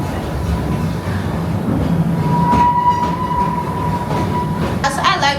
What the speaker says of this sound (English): So that is a real steam engine that runs on propane.